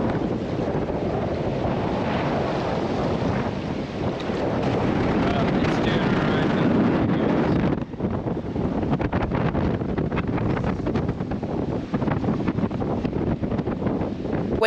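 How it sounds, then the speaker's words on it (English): Wind roars without letup through a night storm at an anchored boat, a loud, dense rush buffeting the microphone, with water noise and the hull's creaks mixed into the constant gale. "The wind is roaring."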